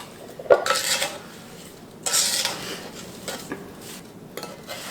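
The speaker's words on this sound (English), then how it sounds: "And I'm going to stir it around just a little bit. Maybe mash them a little bit while I'm stirring" A spoon stirs and mashes strawberries in a pot for freezer jam, giving a few close scraping clinks and soft squelchy rubs, with a brighter scrape in the middle and quiet gaps between.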